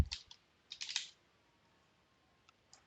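A few quick computer keyboard key presses in short clusters, close and quiet, followed by near silence and a couple of isolated clicks.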